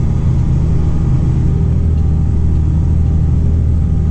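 A Deutz-Fahr Agrotron 6160 tractor pulling a Kverneland five-furrow reversible plough, its engine giving a loud, steady low rumble from inside the cab, held at constant revs throughout.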